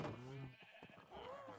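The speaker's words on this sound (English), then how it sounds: "Ah, fuck, I fell in with a sheep." A sheep bleats in a Minecraft-style block game, a wavering call near the start and another toward the end, with someone talking in between.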